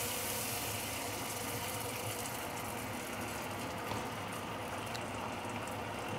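Filtered water bubbling and simmering in a pan with fermented bean, garlic and ginger, a steady dense hiss and gurgle that runs evenly and close throughout with no talk over it.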